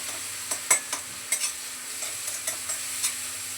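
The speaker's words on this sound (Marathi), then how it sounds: "कोथिंबीर थोडीशी परतून घेते" Coriander leaves sauté briefly in oil in a home kitchen, a faint steady sizzle under a series of light, evenly spaced spatula taps and scrapes against the pan, with no voices.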